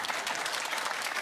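Studio audience at a comedy panel show breaking into dense, steady applause, loud and close, with no talk over it.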